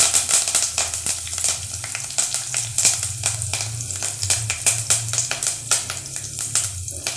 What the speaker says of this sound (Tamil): கருவேப்பிலை நல்லா பொரிஞ்சிட்டு